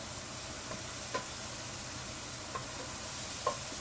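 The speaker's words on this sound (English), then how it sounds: "Add a bit of water to deglaze the pot and keep stirring it." Spices are stirred in a pot of coconut curry after water is added to deglaze it, a soft steady sizzle running throughout with a few faint scraping taps of the spoon against the pot, quiet and close.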